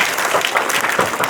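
Schoolchildren clapping hard for themselves in a school gathering, a dense, loud burst of many hands close by, steady throughout the short stretch.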